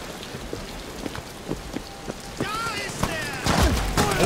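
Rain in the horror game Amnesia: The Bunker, a steady patter of drops with sharp, irregular impacts that grow heavier toward the end, while a voice speaks over parts of it.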